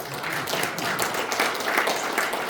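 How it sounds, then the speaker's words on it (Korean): Steady applause from a crowd at a lecture forum, many hands clapping continuously at moderate volume, no voices over it. "뜨거운 박수 한번 쳐주십시오"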